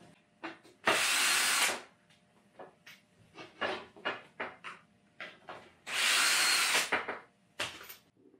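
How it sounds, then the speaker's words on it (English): A power drill backs screws out of a wooden frame holding a deer hide. Two long, loud whirring bursts alternate with shorter clicks and bumps of handling, close by and otherwise quiet. "I'm just going to remove a few of the screws that are attaching it on there"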